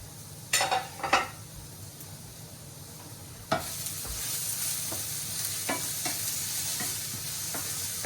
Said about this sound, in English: I am going to throw that in the pan with the mushrooms and the zucchini and make a little frittata